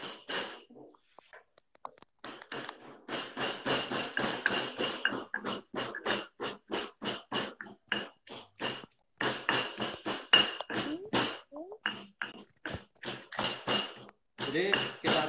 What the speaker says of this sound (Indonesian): Jadi kita tumbuk aja sampai halus.